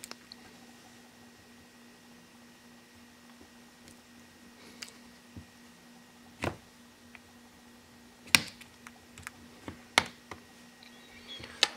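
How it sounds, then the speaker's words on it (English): Sparse plastic clicks and snaps, several single sharp ticks clustered near the end, as the back cover clips of a ZTE Compel phone are pried loose during a teardown, close and quiet with a steady faint hum underneath. "just keep working your way around and it'll just keep clicking loose"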